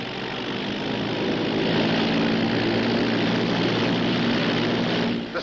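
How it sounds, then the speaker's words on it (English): Propeller aircraft coming in to land, a pickup plane in a 1942 Sherlock Holmes film: a continuous, fairly loud engine drone that swells slightly and holds steady, with no voices. "That's a pickup plane."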